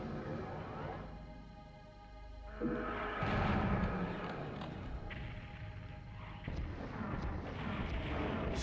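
Rocket blasts and heavy booms from the Doom video game on PS1, several dull explosions in quick succession over busy game noise, fairly quiet overall.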